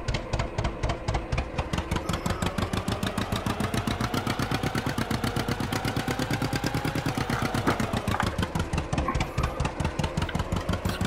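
Engine running steadily, a rapid, even pulsing chug that stays loud and close for the whole stretch with no voices.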